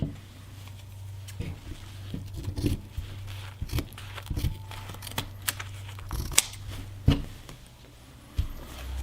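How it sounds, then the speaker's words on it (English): Scissors snip through the edges of a fabric face mask, irregular crisp cuts and rustling of material over a steady low hum, close by with no talking. "What we want to do is cut the edges off this mask."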